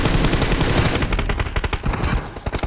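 Rapid bursts of sniper and automatic gunfire from the battle royale game BGMI crackle loudly and densely throughout, shots overlapping in quick volleys with no speech.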